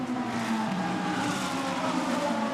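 Lamborghini and Ferrari GT race cars drone around the Barcelona circuit, a sustained, steady engine roar that stays at an even level throughout.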